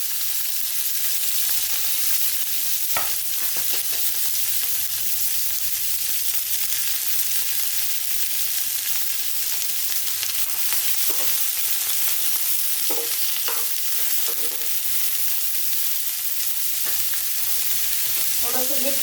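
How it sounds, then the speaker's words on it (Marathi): Onion sautéing in a spoonful of oil in a pan for a mixed vegetable curry makes a continuous, even frying hiss, with occasional soft spoon clicks and scrapes scattered throughout. "एक चमचा तेल टाकले पॅनमध्ये कांदा परतून घेऊ आपण आता"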